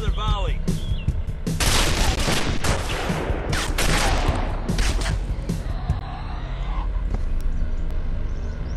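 A volley of gunfire in the zombie shooter Operation Dead One: dense, loud overlapping shots and booms rolling together for several seconds, with voices talking over the fire.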